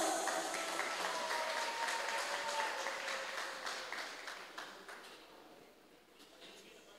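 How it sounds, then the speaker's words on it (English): An audience at a student meet claps in a broad, steady wash of applause that slowly thins and fades over several seconds, with faint voices mixed in. "Give them a round of applause."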